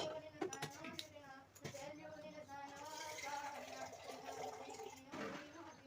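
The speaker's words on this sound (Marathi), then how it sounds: "पाणी टाकून घ्यायचं त्याच्यामध्ये हे आपलं मस्त पाणी गरम होते" Water poured into a cooking pot in a home kitchen gives a continuous, gurgling pour that rises in pitch as the vessel fills, close by with a few clanks at the start.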